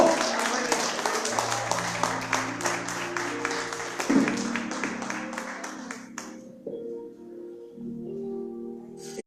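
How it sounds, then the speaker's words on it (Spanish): A church congregation claps together in rhythmic applause while a music keyboard and voice continue underneath, the clapping fading out partway and leaving sustained chords. "Dale un aplauso a Dios"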